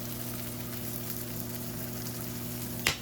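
Onions caramelizing in a pan on a vegan home-cooked meal stove give a steady, even sizzle that runs throughout, with a single sharp clink near the end.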